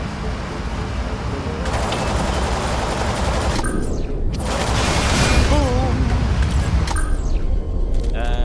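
Shotgun blasts and rapid gunfire from the vehicle combat game Dark Future: Blood Red States, with loud repeated bursts and booms over a continuous engine-like roar, and a voice talking at times.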